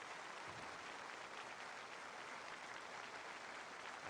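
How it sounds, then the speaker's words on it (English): A crowd of dignitaries at the Hong Kong handover ceremony of 30 June 1997 applauds in a big hall, a continuous dense wash of clapping, even and distant-sounding, with no speech over it. "And a great round of applause"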